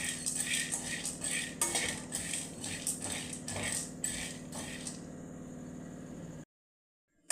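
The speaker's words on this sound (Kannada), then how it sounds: "ನೋಡಿ ಫ್ರೆಂಡ್ಸ್, ಈಗ ನಾನು ಕಡಲೆ ಹುರ್ಕೊತಾ ಇದ್ದೀನಿ." Chickpeas dry-roasting in a pan rattle and scrape under a metal spoon in repeated stirring strokes, close and fairly quiet over a low hum, stopping abruptly near the end.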